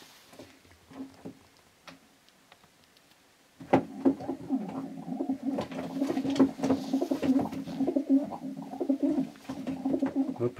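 A racing pigeon, a 2018 male, coos in repeated low rhythmic phrases close by, starting after a few quiet seconds with light patter and knocks around it.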